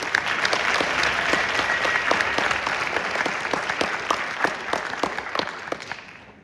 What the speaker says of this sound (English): Can we keep that going for Emmett Care over there, our narrator?